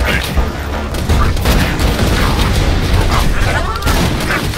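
Grenade explosions in the PC game Borderlands 2 rumble as a loud continuous roar of blasts mixed with gunfire, dense and heavy throughout with voices under the din.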